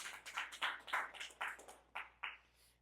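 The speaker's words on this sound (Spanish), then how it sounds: "Denle otro aplauso a la palabra de Dios" A church congregation claps for the word of God. About a dozen distinct, fairly quiet claps come in an uneven rhythm and slow toward the end, with no talking over them.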